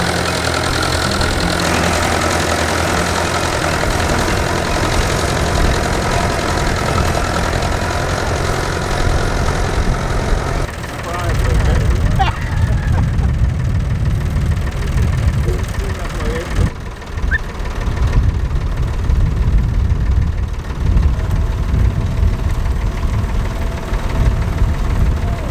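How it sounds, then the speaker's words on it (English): An International 414 tractor with a matching International plough runs at a working event, its engine a loud, steady low chug that grows heavier partway through, with someone talking over it. "This International 414 with a matching International plough caught my eye."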